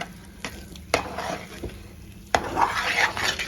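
Gram flour and ghee being stirred in a pan: repeated clacks and scrapes of a spoon against the pan over a soft sizzle, some sharp knocks standing out, close and moderately loud, no talking.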